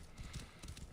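Horse hooves clip-clop in Assassin's Creed Origins, a steady rapid rhythm of several close, moderately loud steps with game ambience underneath and no talk.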